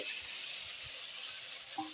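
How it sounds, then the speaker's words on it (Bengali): Potatoes fry in hot oil in a pan after the eggplant, giving a steady, bright sizzle that holds evenly throughout, close and fairly quiet, with faint soft knocks beneath and no voices. "আমি একই তেলে এখন আলুগুলো দিয়ে দিব"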